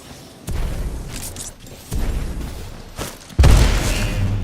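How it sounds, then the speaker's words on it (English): Grenade explosion in Titanfall 2: a series of heavy booms, three distinct thumping blasts spaced about a second and a half apart, the last one loudest and deepest, with rumbling tails between them. "I threw the grenade and it hit right here"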